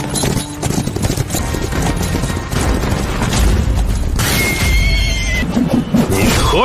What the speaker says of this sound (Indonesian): tiba-tiba saja Shihao mendapatkan kepungan dari para pasukan berkuda